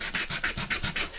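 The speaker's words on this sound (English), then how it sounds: "sand that back a little bit so it doesn't look quite so pristine" Sanding paper on a handmade gingerbread man journal page, a rhythmic scratchy rubbing of about eight close back-and-forth strokes, steady and fairly loud with no talking.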